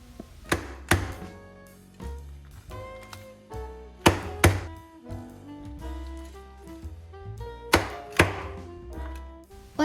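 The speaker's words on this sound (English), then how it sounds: "With a sharp knife or cleaver, chop it to your desired size and serve." A cleaver chops through crispy air-fried roast pork belly on a board, heavy thunking strokes landing close and loud in irregular pairs and clusters, with crackly crunches from the skin between blows and no talking.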